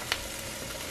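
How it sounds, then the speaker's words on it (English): Peppers sizzle in a hot frying pan, a steady close hiss of cooking with one brief sharp pop near the start. "Oh, you can hear them sizzling away"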